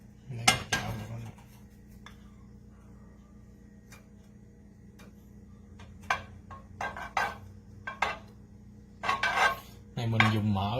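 A frying pan is picked up and handled in a home kitchen, giving sharp metallic clanks and knocks at scattered moments. Quieter lulls fall between them, and a brief loud clatter comes at the start and again near the end.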